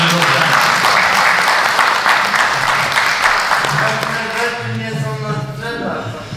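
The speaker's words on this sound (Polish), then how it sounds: "to brawa do pana Dziwoga." Audience applause at a talk with a photographer, loud dense clapping filling the room that gradually thins and fades toward the end, with a voice speaking over the last seconds.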